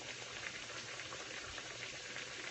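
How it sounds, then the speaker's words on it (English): Coconut oil hisses and crackles steadily at low volume as plantains fry, a continuous bubbling sizzle with no voices. "this is the first part of the frying"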